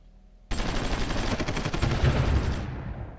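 An artillery attack in the strategy video game Supreme Ruler Ultimate comes in as a sudden, dense roar of gunfire. It bursts in loudly, rumbles for about two seconds, then cuts off, with no voices.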